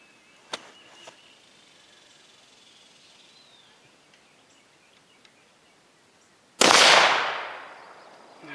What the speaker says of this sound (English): I'm going to take another shot.